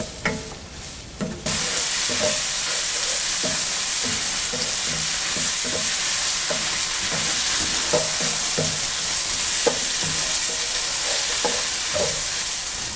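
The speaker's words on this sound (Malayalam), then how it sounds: "ആവശ്യത്തിന് ഉപ്പ് എന്നിവയിട്ട് നന്നായിട്ട് വഴറ്റിയെടുക്കുക." Onions with salt sautéing in a hot pan for kada roast, a loud steady sizzle with repeated scraping stirs of a spatula, close by and without speech, after a brief quieter opening.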